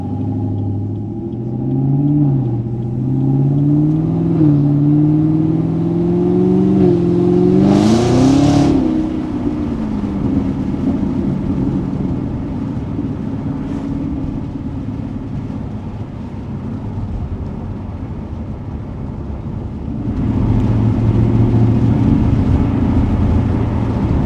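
A Chevrolet Camaro (2016-or-later model) cruises with a steady, loud engine and exhaust drone. Low revs rise and fall, a brief sharp burst comes near the middle, and the exhaust swells louder again toward the end.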